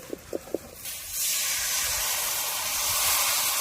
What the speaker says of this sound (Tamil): நல்லா அதையும் போட்டு எண்ணெயிலே வதக்கி